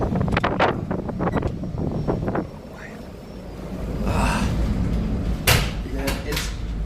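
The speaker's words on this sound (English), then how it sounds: "it's extremely windy outside. Out here on the fjord." Strong wind rushes across an open Norwegian fjord in a snowstorm, buffeting the microphone with a low roar that swells and fades, with a voice speaking at the start and brief knocks later.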